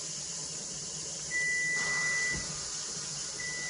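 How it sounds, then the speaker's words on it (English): A kitchen timer beeps in a steady, high, continuous tone, stopping briefly and then starting again, over the constant hiss of steam venting from a pressure canner cooking baked beans. "my timer went off"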